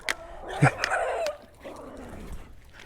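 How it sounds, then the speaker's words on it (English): A dog barks on a city street in Leon, Nicaragua, a few sharp close barks early on that fade into lower whimpering sounds and quieter street background. "That same dog and that one that's barking"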